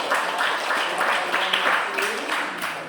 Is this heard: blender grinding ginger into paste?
no